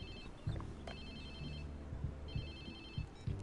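A phone rings in the video game Watch Dogs, repeating bright trilling bursts over a low, steady hum and thudding background noise, with no talking.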